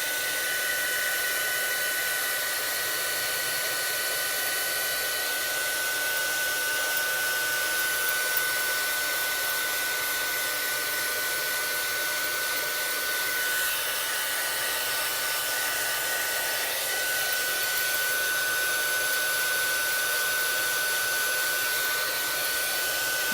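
Heat embossing tool blowing hot air to melt embossing powder for card making, a loud continuous fan-like whir with a steady high whine, unbroken throughout.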